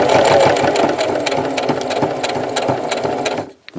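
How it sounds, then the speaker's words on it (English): A home sewing machine runs forward through fabric with a continuous, close mechanical rattle and hum, then stops abruptly near the end, leaving brief quiet. "And let's sew forward."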